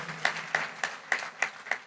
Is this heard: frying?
no